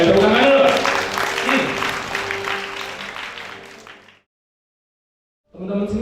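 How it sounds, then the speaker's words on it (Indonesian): Applause from an audience at a scholarship launch event, dense clapping for about four seconds that fades into a pause before more sound returns. "Oke, tepuk tangan dulu."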